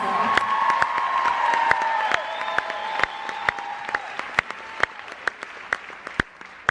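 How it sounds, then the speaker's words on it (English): Applause with cheers and whoops from a theatre concert audience at a show in Austin, Texas, loud at first, then dwindling to scattered individual claps. "give him a huge round of applause"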